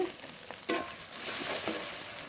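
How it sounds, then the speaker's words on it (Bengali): Spices cooked down with salt and a little turmeric in a hot pan, a continuous close sizzle with faint stirring scrapes, brief and without speech. "মশলা খুব ভালো করে কষিয়ে নেবো"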